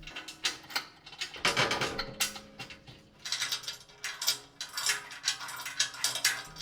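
A ratchet wrench clicks in quick, uneven bursts while a skid plate is bolted into place under a Subaru, with metallic rattles and short pauses between runs, close and fairly quiet.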